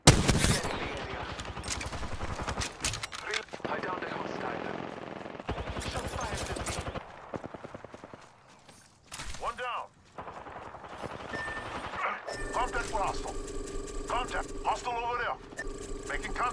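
Rapid bursts of gunfire in Apex Legends, rattling machine-gun volleys and sharp shots in loud clusters, interspersed with in-game voice callouts and electronic effects.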